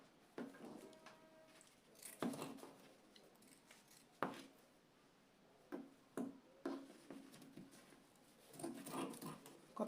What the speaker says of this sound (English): See the way I'm cutting it.